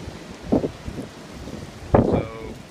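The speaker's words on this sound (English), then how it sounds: "it's a really windy day." Strong wind gusting outdoors on a windy day at a blacksmithing setup, heard as broad rumbling buffeting against the microphone with a couple of louder gusts and no speech.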